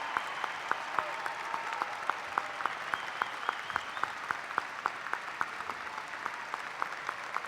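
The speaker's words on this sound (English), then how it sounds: "Let's give them a round of applause." Audience applause at a university commencement ceremony, steady and fairly distant, with sharp individual claps standing out over a continuous crowd wash for the whole stretch.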